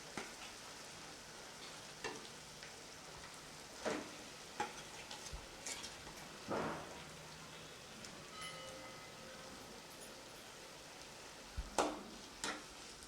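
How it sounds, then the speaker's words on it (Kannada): Mashed potato being stirred into a pan for aloo paratha, quiet soft scraping and scattered taps of a spoon against the pan, with a few louder knocks spaced through a low, hushed background. "ಇವಾಗ ಸ್ಮ್ಯಾಶ್ ಮಾಡ್ಕೊಂಡಿರೋಂಥದ್ದು ಆಲೂಗಡ್ಡೆ ಇದರಲ್ಲಿ ಹಾಕ್ಕೊತಾ ಇದ್ದೀನಿ."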